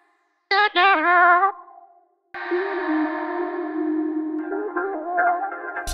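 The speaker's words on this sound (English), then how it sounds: "a nice otherworldly ethereal reverb effect, completely transforming this vocal sound" A short sung vocal phrase, then a long sustained note smeared with heavy reverb from a Polyspace plugin, swelling into a shimmering, echoing wash that lingers.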